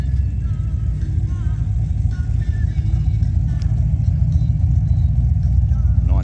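Holden Torana SLR 5000 passing at the Bay to Birdwood car rally in Adelaide, a loud, steady low engine burble rumbling throughout, with people talking over it.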